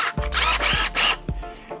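A power drill spins a cleaning tool for the seat tube of a vintage steel bicycle frame, whirring in three short bursts with quick stops and a little handling noise between them, close and loud.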